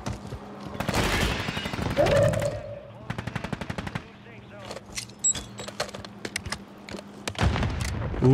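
Gunfire and a loud grenade blast in the shooter game Warzone 3, rapid bursts of automatic fire crackling around a booming explosion, with a voice talking over parts of it.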